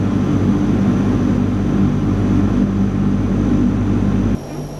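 A Convair 580 turboprop airliner sits with its engines running before takeoff in snowy weather, giving a loud, steady, droning roar with a low hum that continues alone, then drops off abruptly near the end.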